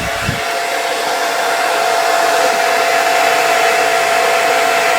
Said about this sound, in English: you don't want to just rip through your hair with that blow dryer.